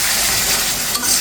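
A potato and fish curry is stirred in a hot pan, with a continuous loud sizzle and bubbling of frying liquid and a faint scrape of the spoon.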